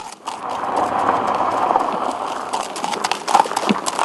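Hooves of a horse clip-clopping as a rider waits on horseback to welcome a visitor, a steady mid-distance rhythm over faint outdoor background.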